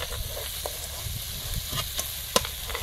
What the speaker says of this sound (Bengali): মশলার সঙ্গে ফুলকপিটা কিছুক্ষণ কষিয়ে নিয়েছি